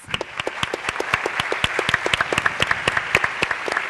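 Applause from the audience at a university leadership forum in Peru, dense rapid clapping that holds steady and even for about four seconds with no voices over it.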